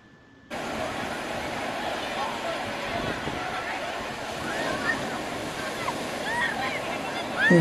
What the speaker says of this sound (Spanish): El mar se puso bravo.